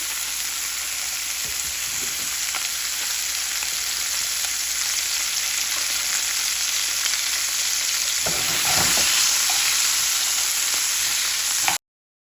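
Pieces of fresh rohu fish frying in oil in a pan, producing a dense, even sizzle that holds steady for several seconds, with a brief swell of louder crackling and stirring near the end, no voices present.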